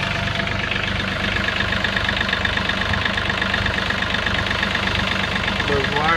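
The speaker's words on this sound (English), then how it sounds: "got our little John Deere here on the farm that wouldn't shut off this morning." A small John Deere diesel farm tractor idles nearby, its engine that won't shut off knocking in a steady, loud, rhythmic clatter, with someone talking over it.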